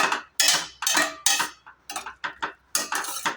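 A metal lid is set onto a cooking pan of drumstick stir-fry, giving a quick series of about eight sharp clinks and clatters, close and moderately loud with brief silences between.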